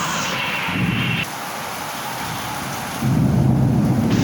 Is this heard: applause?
no